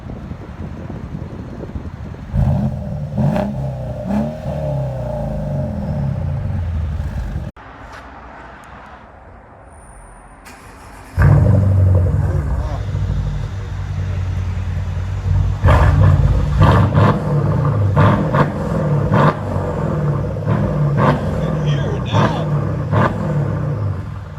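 A Mercedes CLS 550 with a 4.7L twin-turbo engine and straight pipes revs with a loud, close roar that swells, drops to a lower idle, then surges again. Voices talk over the noise.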